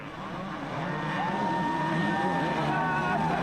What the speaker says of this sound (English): Look at the power, though, of that two-stroke Team Honda number 44, Sebastien Tortelli